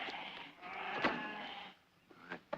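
A sheep bleats in a long wavering call, followed by shorter bleats near the end, close and moderately loud in an outdoor Western ranch setting.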